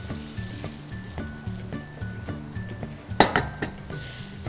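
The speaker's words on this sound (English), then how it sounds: "I'm going to add the fish and the oil that it was cooked in" Fried fish and its cooking oil go into a simmering methi gravy in a pan, producing repeated metal clinks and scrapes of a utensil against the pan, with one sharper clatter near the end, close and fairly quiet.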